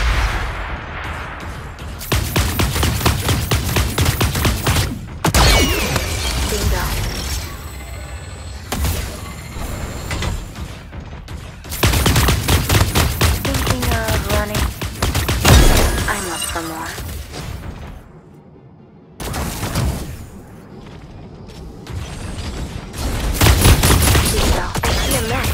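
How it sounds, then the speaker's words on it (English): Bursts of gunfire in the Super Mecha Champions mech game, loud and close, coming in repeated dense volleys with short pauses and booming impacts between them. "I hear gunfire"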